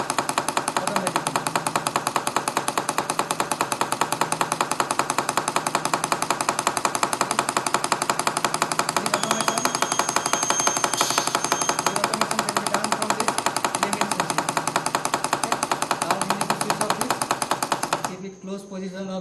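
Pneumatic double-acting cylinder running at 3 bar pressure, driven through a hand slide valve, a loud, rapid mechanical rattle that pulses without a break for about eighteen seconds and then stops.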